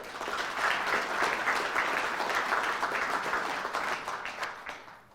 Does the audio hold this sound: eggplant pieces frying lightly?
no